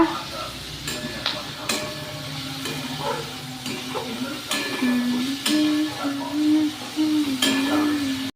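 Fried chilies sizzle in a pan as sauce is stirred in for pasta, a steady frying hiss broken by sharp clinks of the spoon against the pan, with a faint tonal hum rising in the second half.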